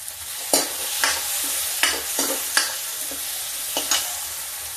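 Chana dal frying in a little oil, a soft continuous sizzle broken by repeated clinks and scrapes of a spoon stirring in the pan, with no speech.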